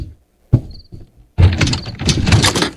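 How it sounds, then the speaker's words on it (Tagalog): Knocking on a house door at night, a sharp knock then a couple of softer taps, followed by a louder burst of thumping and rustling handling noise close by, with no voices. "May kumakatok."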